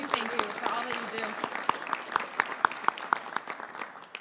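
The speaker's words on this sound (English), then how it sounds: "Another round of applause for our incredible reps." An audience at a governor's bill-signing ceremony applauds state representatives, a room of steady clapping with sharp individual claps standing out as it tapers, while voices talk over it.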